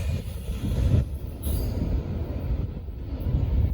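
A Norfolk Southern freight train, the 28R, rolls past close by with a heavy, continuous rumble of wheels on rail and faint squeals. No one speaks over it.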